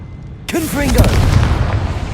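A sudden loud blast from the Confringo blasting spell in Hogwarts Legacy bursts in after a quiet moment, followed by a rumbling, crackling tail and a brief voice-like tone layered over the impact.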